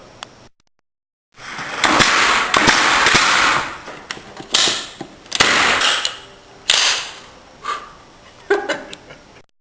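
A forklift's lifting mechanism runs in a sculptor's workshop, giving loud, close bursts of mechanical whirring and rushing noise that start and stop several times with short pauses between them.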